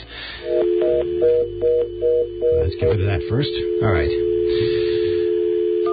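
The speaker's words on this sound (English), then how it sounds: "You enter touchstones, and it tells you the train schedule." A telephone line to a train schedule service gives a steady dial tone, then a run of touch-tone key beeps, with someone talking over the tones.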